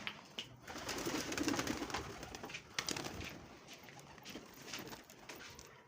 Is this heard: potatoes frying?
no